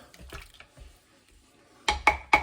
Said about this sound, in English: Give it a quick stir around